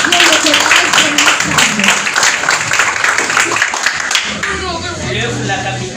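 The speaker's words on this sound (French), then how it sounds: "Je vous demande d'applaudir le collège de" A school team is applauded at a Haitian student competition: a crowd claps loudly and continuously while voices talk and call out over it, and the clapping eases off toward the end as the talking continues.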